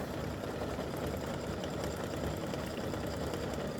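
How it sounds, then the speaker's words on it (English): A sewing machine runs steadily, stitching an appliqué football on a turkey quilt block, a continuous close, even motor hum with rapid needle chatter and no pauses. "we're through with the stitching on the football"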